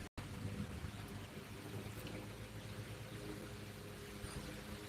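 Steady rain falling in a southeast Kansas storm while fishing outdoors, a dense, even hiss with a low rumble underneath, fairly faint and constant, with no voices.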